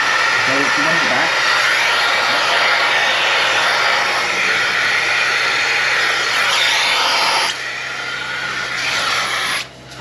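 A dairy milking machine's vacuum runs with a loud, steady close hiss and hum, dropping slightly toward the end.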